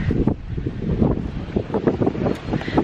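Steady wind gusts rumble and buffet the microphone, a rough continuous roar with no voices.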